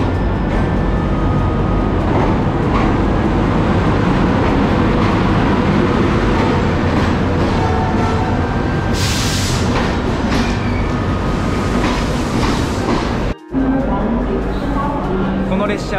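A train rumbles steadily into a station in Delhi, India, with a loud continuous roar, brief brake hiss, and people talking underneath.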